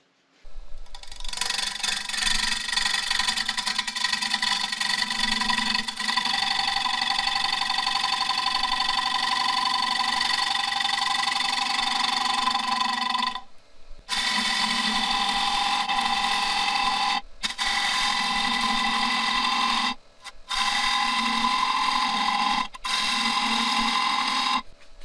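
A wood lathe spins a thin-bottomed bowl while its bottom is smoothed, giving a steady, loud mechanical whine that runs on and on, broken by a few brief pauses.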